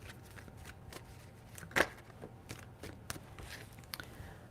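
Tarot cards are shuffled in quick riffling bursts with soft flicks and taps, one sharper snap partway through, close and fairly quiet.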